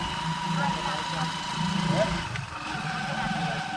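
A motorbike engine idles and runs steadily with a low rumble throughout, close by, with voices murmuring faintly in the background.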